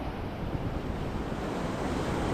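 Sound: sea waves on the shore at low tide

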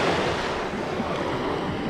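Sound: waves on the beach at Orange Beach, Alabama

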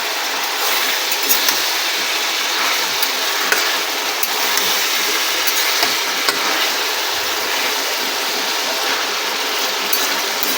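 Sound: frying prawns in a pan

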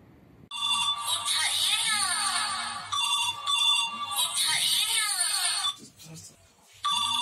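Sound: phone ringtone ringing

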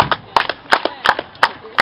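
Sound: audience clapping hands at a live show

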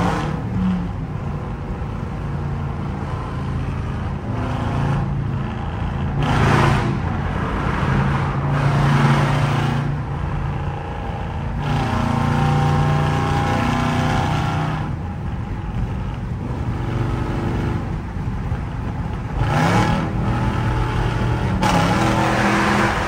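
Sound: loud exhaust of Jeep 5.7 with catalytic converter removed

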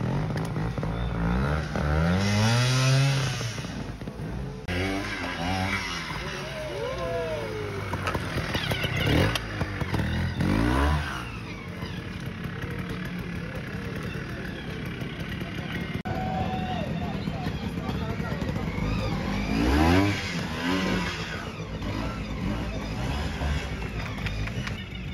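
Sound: trial motorcycle engines

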